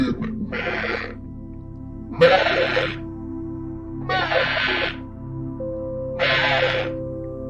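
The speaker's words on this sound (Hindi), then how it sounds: "वे देखते हैं कि एक बकरी आ रही है" A cartoon goat bleats four times in evenly spaced, strained cries, each about a second long, over a steady low background hum.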